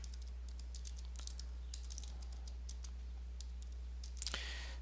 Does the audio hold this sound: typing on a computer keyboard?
yes